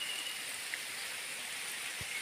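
Water drops off rocks at a scenic waterfall on a nature trail, a faint, steady hiss of spattering water that continues without a break and with no voices.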